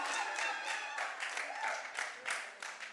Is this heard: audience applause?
yes